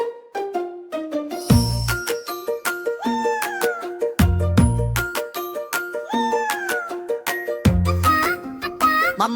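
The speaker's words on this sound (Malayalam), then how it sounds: "മ്യാവൂ മ്യാവൂ പൂച്ച, മിടുമിടുക്കൻ പൂച്ച" Playful, bright cartoon-style cat meows in a Malayalam children's song, layered over a bouncy plucked and chiming melody with periodic low thumps, repeated throughout in a catchy rhythm.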